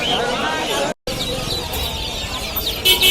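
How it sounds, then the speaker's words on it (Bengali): Local desi chicken chicks peep in thin, high chirps at the Mirpur-1 bird market, their calls mixed into a busy background of crowd babble and market noise. "অরিজিনাল দেশি মুরগির বাচ্চা"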